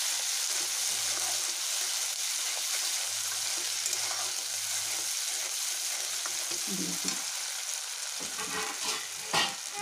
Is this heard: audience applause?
no